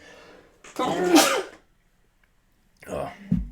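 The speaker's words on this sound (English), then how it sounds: "Sorry, everybody sneezes." A single loud sneeze bursts out, followed by a pause of silence and then a brief bit of talking.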